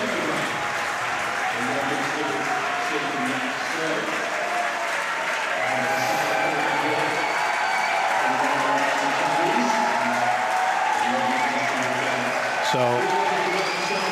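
Spectators give sustained applause for two French players after a wheelchair doubles table tennis match, a steady, even wash of clapping from an indoor crowd lasting the whole stretch, with a commentator talking over it.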